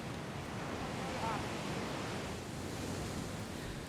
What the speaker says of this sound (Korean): 거친 파도가 부서지는 대서양